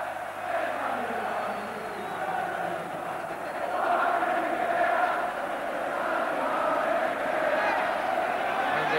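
Wembley crowd at the 1982 FA Cup Final replay, Tottenham's win, producing a steady, dense roar of voices and cheering that swells slightly midway and carries throughout without a break.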